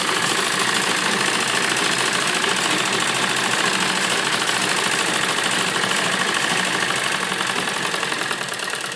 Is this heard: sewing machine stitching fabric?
yes